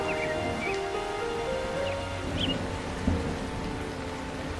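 Cartoon rain falling in a steady soft wash, with faint chirping bird-like tones drifting over it and a small thump near the end.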